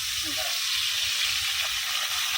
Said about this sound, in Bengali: ইলিশ ভাজা